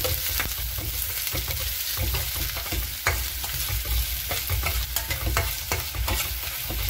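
Onions frying and sizzling in an oil-filled pan for palak paneer, a steady close hiss broken by the scrape of stirring, with no voices.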